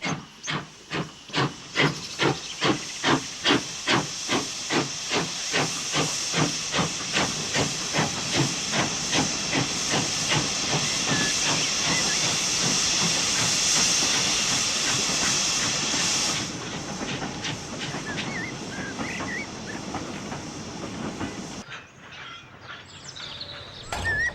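J37 steam locomotive 64541 hauling a rake of empty wagons up from a Scottish mill, its loud rhythmic chuffs steadily quickening over a constant hiss of steam before the exhaust fades and the sound drops away.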